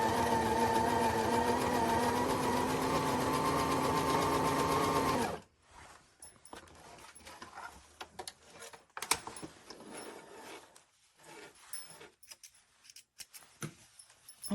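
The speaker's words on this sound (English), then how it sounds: "Now I'm just going to take a piece of scrap fabric and I'm just going to check that my stitching is nice and even" A sewing machine stitches a piece of scrap fabric, running as a steady loud whirring hum for about five seconds and then stopping, followed by faint clicks and rustling of cloth and handling.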